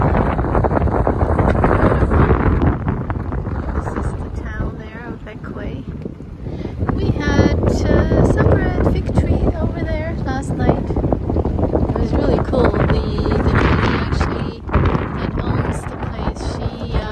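Wind gusts buffet a boat on a mooring in Admiral Bay, Bequia, loud rushing and microphone buffeting that rise and fall, with a voice talking over the gusts at times.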